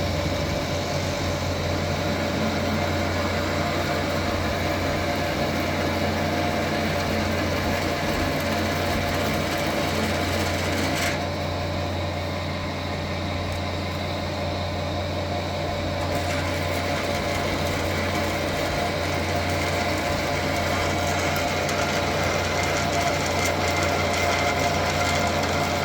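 A metal lathe steadily feeds a boring bar into a grouser track bushing, giving a continuous close machine hum and whine with a slight change in tone midway, no speech over it.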